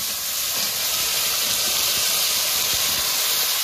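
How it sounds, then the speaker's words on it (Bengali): Cut potatoes dropped into tomato and onion fried red in hot oil, producing a loud, even hiss of steam and sizzling with a few faint clicks, no voices. "টমেটোটা আর পেঁয়াজটা লাল লাল করে ভাজা হয়ে গেছে, এর মধ্যে কেটে রাখা আলুগুলো দিয়ে দেবো।"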